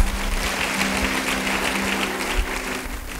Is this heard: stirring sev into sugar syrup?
no